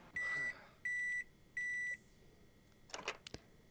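Three even, clear electronic beeps from a microwave in The Sims 4 repeat at a steady pace, each about half a second long, followed by a few soft clicks and clatters.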